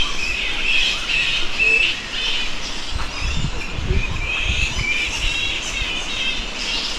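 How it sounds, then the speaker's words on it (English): Bats roost in trees around Darwin, their dense, high squawking chatter forming a constant noisy chorus, with a few louder rustling bursts partway through. "There are bats everywhere here. I thought they were birds."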